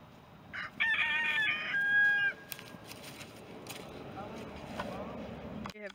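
A young rooster on a small farm with baby goats crows once nearby, a loud bright call with a wavering tail, followed by softer clucks and faint farmyard noise.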